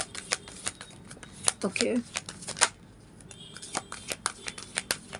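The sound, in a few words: shuffling a deck of tarot cards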